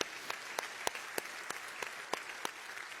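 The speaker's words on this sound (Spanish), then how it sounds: "Dale fuerte aplauso al Señor si se lo vas a dar" A church congregation applauding during a sermon, a soft, fairly distant patter of clapping with occasional louder individual claps.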